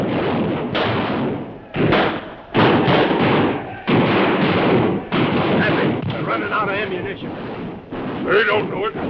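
Gunfire bangs out in repeated heavy bursts during a battle in a 1932 western film serial, booming loud and close with a rough, windy texture. Brief gaps separate the volleys across the scene.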